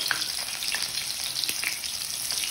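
Bombay duck fish frying in hot oil with curry leaves, a loud, dense sizzle and crackle that bubbles continuously up close with small pops throughout, no voices.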